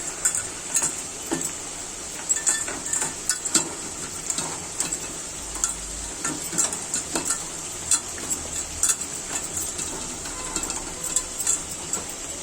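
Kalibaus fish frying in hot oil with turmeric and chili, a steady soft sizzle with scattered sharp crackles and spatters close by, no talk.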